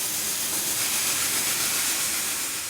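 Steam hisses as a continuous broadband rush, fairly soft and steady for a few seconds, likely from a steam locomotive, with no voices.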